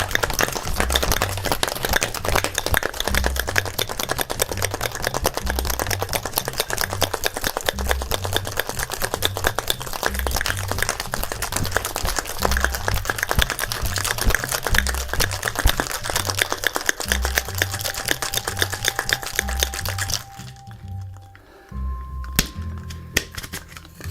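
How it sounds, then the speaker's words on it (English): A cocktail shaker with ice and egg white for a White Lady, rattling in a fast, steady rhythm for about twenty seconds before stopping, close and loud. "So you can start by shaking with your ice and then add your egg white and shake again to get that really nice foam."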